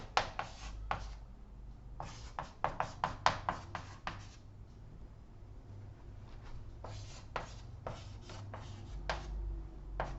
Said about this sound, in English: here I'm going to draw the wafer sideways